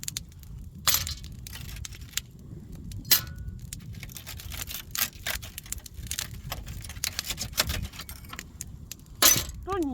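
Thin glass is struck with a hammer on a wooden board, giving repeated sharp cracks, tinkling shards and clinks in irregular bursts, with louder smashes near the start and end, close and moderately loud.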